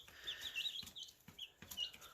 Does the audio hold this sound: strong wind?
no